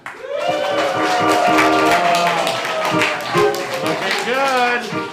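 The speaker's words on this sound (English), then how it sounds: "by round of applause, if you like their scene, I want to hear it" An improv theatre audience gives a round of applause, scattered rhythmic clapping and cheering voices mixed together, loud and lively throughout.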